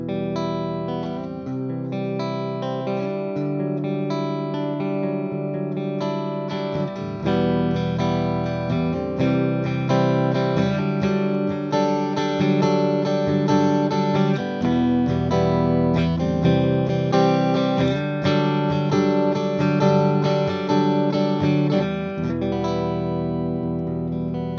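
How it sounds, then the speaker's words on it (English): Clean electric guitar tones from an EMG 89R active pickup played through a Devilcat Missy amplifier, with steady ringing chords and sustained notes continuing at a fairly even, full level throughout, no voices. "We have some clean tones through the EMG 89R."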